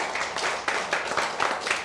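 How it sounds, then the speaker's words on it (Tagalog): A church congregation breaks into loud applause during worship, with sharp hand claps coming in quick uneven bursts throughout, fairly close and steady. "malakas na palakpak sa Diyos na buhay"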